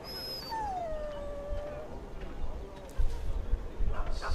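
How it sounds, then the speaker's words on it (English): A dog in the video game Dragon Age Origins howls and whimpers: one drawn-out, falling whine carries over steady in-game background noise, with rougher sounds rising near the end. "this is my dog."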